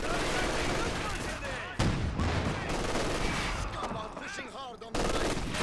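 Machine gun fire from MG Grenadiers in a strategy video game, rattling bursts mixed with explosions and battle noise, with a commentator talking over it.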